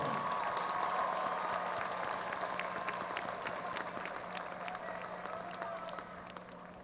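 Commencement audience applauds the Waco High School class of 2021 honor graduates, a sustained wash of crowd clapping in a large hall that slowly fades.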